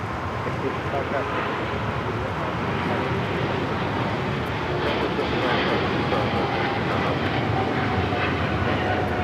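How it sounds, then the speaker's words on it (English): An EVA Air Boeing 777-300ER taking off from runway 25 right at LAX produces a loud, broad jet roar that builds slightly and holds steady for the whole stretch, with a voice talking over it. "This is EVA Air Flight 5 taking off to Taipei on the 777-300ER."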